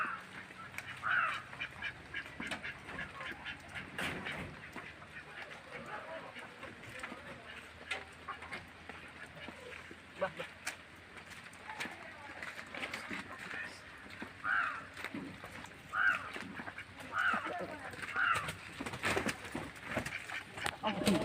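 Repeated duck quacks, a few short nasal calls, over a busy outdoor background with speech and rustling.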